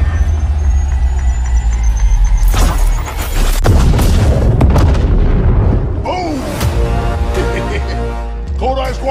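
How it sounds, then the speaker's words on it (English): Grenade blast in a squad-based shooter game on iOS/Android, a heavy boom followed by further bursts and rumbling impacts over steady game ambience. "Grenade."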